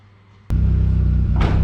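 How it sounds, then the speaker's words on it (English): A Toyota MR-S fitted with a swapped VAG 1.8 20V turbo engine, first moving under its own power: after a quiet moment, a sudden loud low engine rumble cuts in and holds steady, with a brief airy rise near the end. "Steve's MR2 for the first time actually moving at all."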